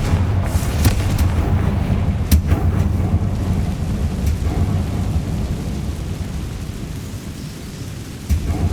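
A Confringo fire spell blast in the video game Hogwarts Legacy: sharp explosive cracks burst out several times over a continuous, heavy rumbling roar, loud and close, with no voices.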